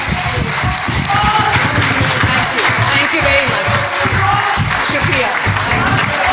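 A crowd at a political gathering applauds loudly and thickly, with some scattered cheering and voices mixed in, and the clapping keeps going throughout.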